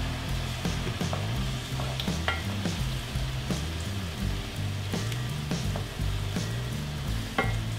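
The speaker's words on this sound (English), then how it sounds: "I'm gonna give it a good stir." Bear stroganoff sauce with Worcestershire sauce sizzles steadily in a frying pan as a utensil stirs it, clinking and scraping against the pan at an uneven rhythm.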